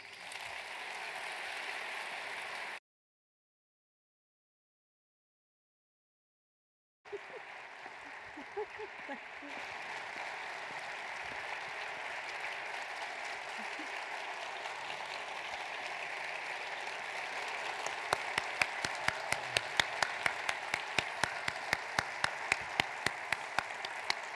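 An audience applauding to welcome Michael J. Fox, steady broad clapping from a large crowd that breaks off for a few seconds, then resumes and swells, with sharper individual claps standing out near the end.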